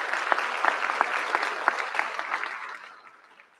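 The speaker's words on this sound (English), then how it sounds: "Let's have a round of applause for the families of our seniors." Audience clapping at a high school scholarship presentation, a dense, steady round of applause that tapers off toward the end.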